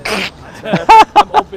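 A single sharp sneeze bursts out at a sidewalk cafe, followed immediately by brief talking.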